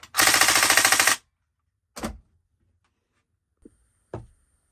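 VFC gas blowback M249 airsoft gun with a Jaeger Precision recoil mod fires one loud burst of about a second of rapid, close shots, then a single shot and a few faint mechanical clicks and knocks.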